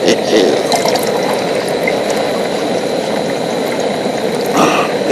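Water pours from a bottle into a cup beside a Soto butane camp stove, a steady, gurgling splash that runs continuously and fairly loud for several seconds.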